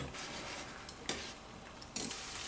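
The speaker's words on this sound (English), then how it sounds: "Now this venison is starting to sizzle again" Steady broadband sizzle of venison mince frying in a pan, with a couple of sharper scraping or stirring bumps; fairly quiet and continuous.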